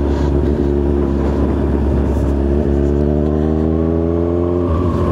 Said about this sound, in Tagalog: Truck.